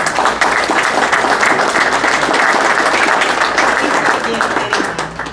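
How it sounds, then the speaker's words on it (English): Loud, sustained round of applause from a room of Rotary club members welcoming guests who have stood up, a dense steady clatter of hands lasting several seconds before tapering slightly at the end. "we'd like to give you a round of applause for joining"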